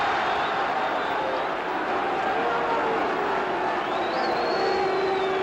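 Rugby stadium crowd at a 1972 New Zealand versus Wales test match, a broad steady roar of disapproval filling the background, with a commentator's voice faintly over it.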